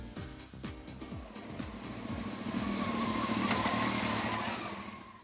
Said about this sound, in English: Hang on a minute, that sounds like my bike.